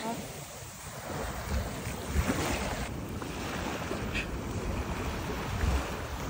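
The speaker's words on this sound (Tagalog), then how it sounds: "Umaaga pa lang, malaki na yung waves." Big sea waves crash and surge on an early morning beach, with heavy rumbling surf and wind buffeting the microphone, loud and continuous.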